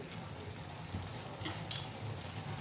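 Ground garlic chilli masala fries in hot oil for an Andhra-style taro root (arbi) garlic fry, giving a steady, close, even sizzle with a few soft stirring scrapes and no talking.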